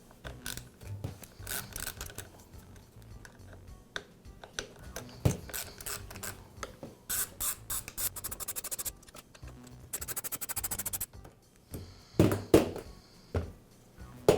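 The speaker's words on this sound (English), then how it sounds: "I'll start by removing the screws." Screws come out of the stopper plate on a Makita band saw during a repair, giving close, irregular metallic clicks, scrapes and ratcheting bursts with short gaps between them and no voices.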